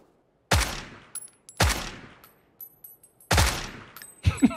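Gunfire in the battle royale game PUBG, three sharp, loud single shots spaced about a second apart with ringing decay, then a quick fourth burst, heard close in an otherwise quiet scene.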